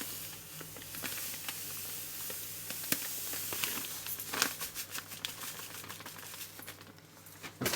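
Granulated sugar poured onto pitted cherries in a cooking pot for cherry jam, a soft hissing, pattering trickle with scattered sharp ticks and grainy bursts, fairly quiet and close.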